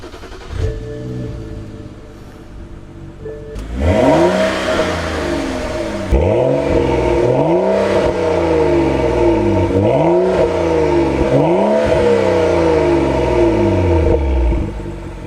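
A BMW 135i with the N55 engine cranks and fires up, then revs repeatedly in rising and falling sweeps, loud and close with a steady idle between blips.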